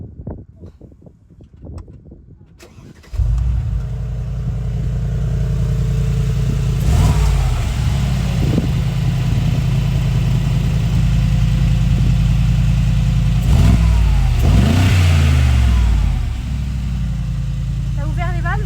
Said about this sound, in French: je vais la démarrer et ensuite, sur ce bouton, je vais ouvrir les valves et elle fera encore plus de bruit